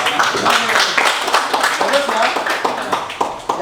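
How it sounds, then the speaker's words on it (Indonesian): A classroom group claps for a student team, a dense burst of applause that stays steady and near throughout, with voices mixed in. "Oke, tepuk tangan dulu untuk kelompok 1."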